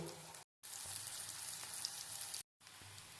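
Bitter gourd frying in mustard oil in a wok makes a soft, continuous crackle that is fairly faint. Two brief silent gaps break it up, and no one talks.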